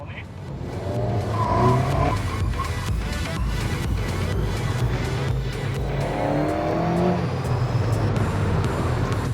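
Race car on the Monaco street circuit cornering through the S-bend, engine note steady and loud with tire squeal and skidding running continuously throughout, close by.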